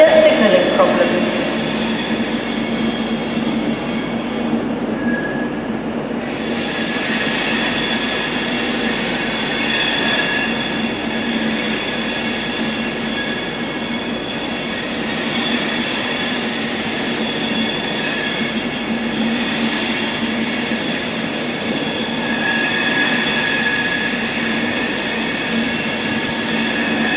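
A train rumbles steadily through a railway station, with wheel squeal and rail noise filling the whole stretch at close range, and no talk over it.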